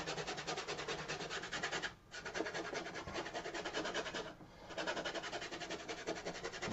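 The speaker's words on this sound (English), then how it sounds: "Rub it into the canvas." A brush pushed hard to rub oil paint into canvas, making steady, rhythmic scrubbing strokes close up, with two brief pauses in the rasping.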